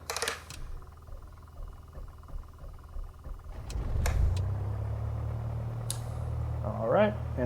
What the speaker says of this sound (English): Clear our prop, clear prop, and engage the starter.